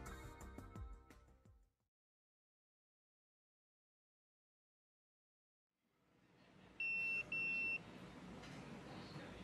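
A mobile phone in Yakuza 0 gives two short electronic ring bursts, fairly close, over a steady background hum that rises after a stretch of near silence.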